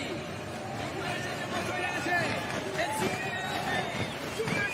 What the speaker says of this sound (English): Such a massive crowd lining the actual run-in here to the finish.